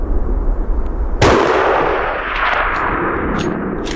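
A single loud rifle gunshot cracks sharply at close range during a hunt, followed by a fading echo and a few faint outdoor clicks.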